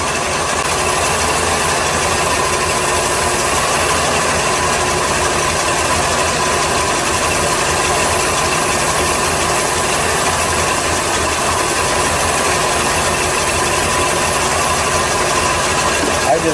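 A 1981 GM engine fitted with a Dual Jet carburetor idles steadily after a mixture adjustment, a constant loud broadband hum with no change in rhythm throughout.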